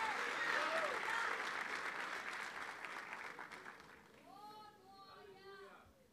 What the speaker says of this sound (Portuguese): Aplauda Jesus, irmão.